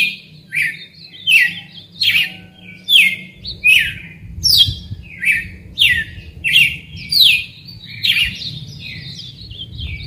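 A caged red-cowled cardinal repeats a rapid series of bright, sharp chirping notes in a regular rhythm, loud and close, over a low background hum.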